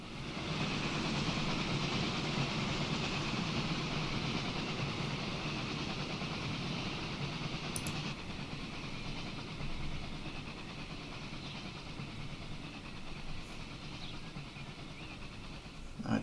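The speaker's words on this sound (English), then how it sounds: "With all these trains coming down from the mountains." Trains in Transport Fever 2 run down from the mountains through a busy junction, producing a steady, loud rolling rumble and engine drone that holds for the whole stretch, with a couple of faint clicks and no talk.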